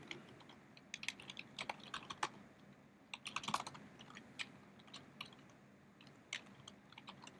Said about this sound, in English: let's type something else down here